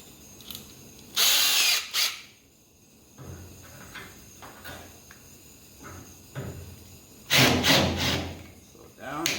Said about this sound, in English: I always like using the pilot hole. Just makes the bigger hole so much easier.